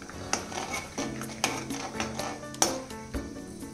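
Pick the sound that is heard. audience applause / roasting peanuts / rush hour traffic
roasting peanuts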